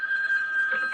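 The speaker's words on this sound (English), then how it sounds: "Look, will you answer the phone?" Telephone ringing in an old radio drama, a single steady electronic ring tone held for under a second, clear and alone.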